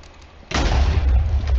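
A sudden explosion in the Minecraft Hypixel video game bursts in after a brief quiet lead-in, then holds as a loud, sustained rumbling roar to the end of the clip.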